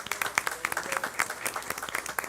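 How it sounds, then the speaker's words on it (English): Applause for 63 graduates at a county board of education meeting, a modest group clapping in quick, distinct claps, fairly quiet and slightly distant, with faint murmuring underneath. "Let's give our 63 graduates a round of applause."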